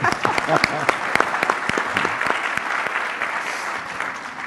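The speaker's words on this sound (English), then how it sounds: "You can clap." An audience at a meeting on pre-K investment breaks into applause, sharp individual claps standing out near the start before the clapping thins and fades toward the end.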